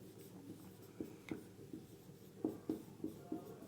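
Chalk or marker writing on a board during a physics lecture on Faraday's law, heard as a series of short scraping strokes in uneven rhythm, fairly close and clear over a soft room background with no talking.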